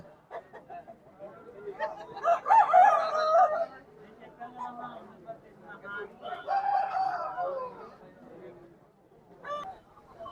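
Country roosters crow loudly in two long bursts at a Saturday chicken market, with scattered clucks and people talking around them throughout.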